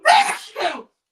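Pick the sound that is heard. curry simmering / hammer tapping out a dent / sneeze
sneeze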